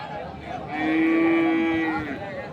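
A single long, loud moo from a nearby crossbred bull rises and holds for about a second, with faint crowd murmur in the background at a cattle market in Ambari, Dinajpur.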